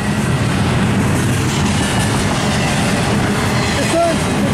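A train rumbles past continuously and loudly, a dense low roar with faint rail clatter throughout, with voices talking over it.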